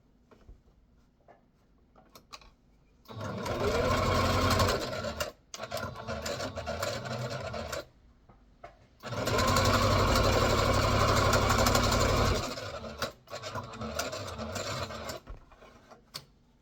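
A sewing machine stitching fabric with shirring thread, running in several long loud rattling bursts separated by short pauses, close and with no talking.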